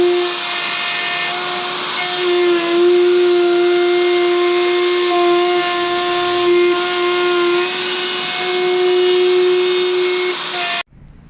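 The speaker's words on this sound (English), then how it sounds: "I put the track over here to cut the line with the router also" A router cuts a line in a plywood bunk bed front for a skoolie, whining steadily and loudly at a high pitch for about eleven seconds before cutting off sharply at the end.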